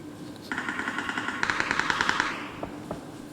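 Automatic gunfire in PUBG rattles off in a rapid, even string of shots lasting about two seconds, followed by a couple of separate single shots, all fairly close and with no talk over them.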